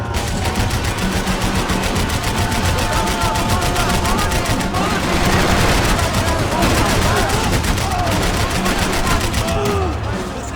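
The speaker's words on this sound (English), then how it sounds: "I can't concentrate with bullets whizzing past my head!" Sustained rapid automatic gunfire rattles loud and close in the video game Max Payne 3, dense bursts overlapping for the whole stretch, with shouted voices mixed in under the shooting.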